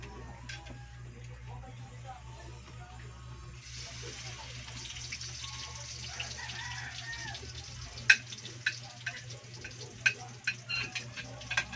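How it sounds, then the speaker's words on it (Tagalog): Garlic and onion start sautéing in a hot wok, a faint, quiet sizzle beneath low background hum, with sharper scraping clicks from stirring toward the end. "Igigisa na po natin yung bawang at saka po sibuyas."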